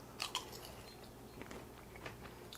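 Crispy fried sweet potato fries dusted with cinnamon being bitten, giving a couple of sharp close crunches followed by quieter chewing.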